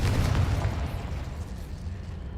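Fiery blast of the Confringo spell in the Hogwarts Legacy video game, a loud deep boom up front that rumbles and fades away over two seconds, with no voice over it.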